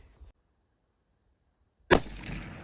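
A single sharp, loud rifle crack from an AR-10 firing a CFE 223 powder load, with a short decaying echo after a quiet lead-in, heard alone outdoors.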